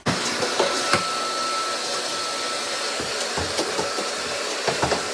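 A vacuum cleaner runs steadily while vacuuming a bathroom, its constant close whine and hiss broken by occasional bumps and knocks against the floor and fixtures, with no talk.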